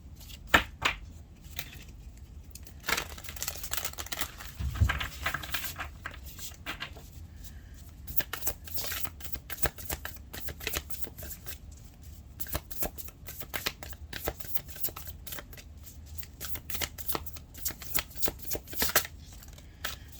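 A deck of oracle cards is shuffled by hand in repeated quick riffles and slaps, close and crisp, with soft pauses between bursts.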